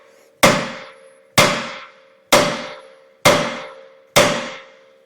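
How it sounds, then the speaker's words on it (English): A hammer strikes a steel tie rod on a Chevy GMC 2500 truck five times at a steady pace. Each blow is a loud, ringing metallic clang that decays between strikes, with no talking. "That way I can swing that hammer in here at a different angle."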